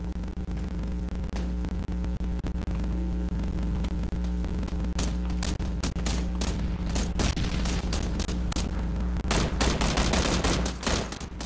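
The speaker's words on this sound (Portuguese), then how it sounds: "Tô jogando duas granadas lá" Grenade blasts and bursts of gunfire in a PUBG match on Xbox One, crackling staccato shots clustered over a constant hum and static, growing denser and louder toward the end.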